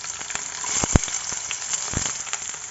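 Onions frying in hot oil with mustard seeds and cumin, giving a steady close sizzle dotted with crackles and a couple of sharp pops.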